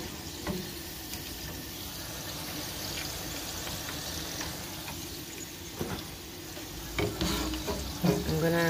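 French fries deep frying in hot oil, a dense continuous bubbling sizzle up close, with clatter and handling noises building near the end; no one speaks.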